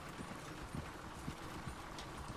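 Horse hooves clip-clopping in the video game Red Dead Redemption 2, a steady rhythmic trot under a continuous broadband game ambience, moderately loud throughout.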